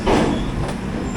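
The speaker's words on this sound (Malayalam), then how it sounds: "വെല്ലൂർ കാൻറ്റോൺമെൻറ്റിൽ നിന്ന് വരുന്ന അരക്കോണം മെമ്മോ ആണിത്." Vellore Cantonment–Arakkonam MEMU electric multiple unit passing close by: a loud, steady rumble and rush of wheels and carriages filling the short moment, with no talk over it.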